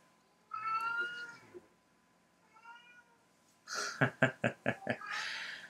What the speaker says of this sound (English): Yeah, it's my cat that's crying. It's because it's bedtime.